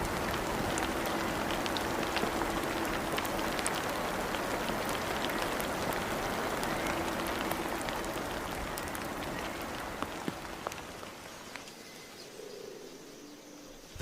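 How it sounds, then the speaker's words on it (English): Heavy tropical rain pours down on Christmas Island, a thick continuous hiss of drops on soil and foliage with faint bird calls scattered underneath, easing and thinning toward the end. "The rain softens the soil and revives the land."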